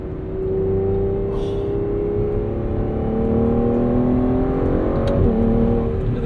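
A 2015 Aston Martin Vanquish with a V12 engine accelerates from inside the cabin, its engine note droning loud and steady as revs climb smoothly and continuously.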